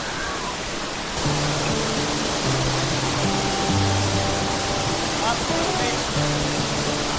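Balagbag Falls in Real, Quezon, in the Sierra Madre: a steady, full rush of falling water fills the whole clip, with music playing faintly over it.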